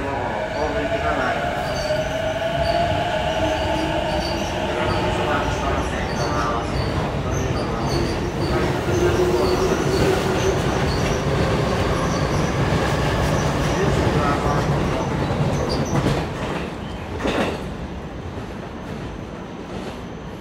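A train rumbles steadily through a Japanese station, with rolling wheel noise and a high squeal near the end as it passes.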